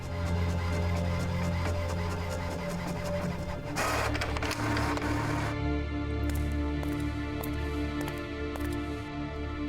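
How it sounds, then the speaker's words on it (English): A printer in the video game Monolith prints a photo onto a card, giving a steady mechanical whir with light rattling, a brief louder burst partway through, then a busier pattern of clicks continuing to the end. "I should print the picture directly onto the card."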